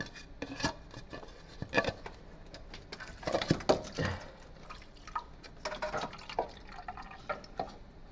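Tesla coolant dripping and trickling into a child's plastic cup during a coolant pump swap, with irregular close drips and small splashes over a steady low hiss.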